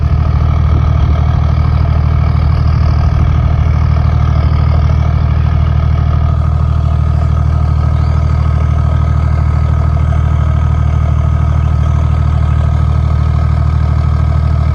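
A Toyota Land Cruiser 100 Series with the 1HD-FTE diesel engine and a new fuel system idles steadily, a loud, even low rumble close by with no talking.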